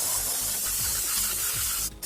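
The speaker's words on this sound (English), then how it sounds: "let's go ahead and spray this thing down a little bit" Strong hissing spray of water blasting mud off a Jeep Wrangler JKU, steady and close for nearly two seconds before cutting off abruptly.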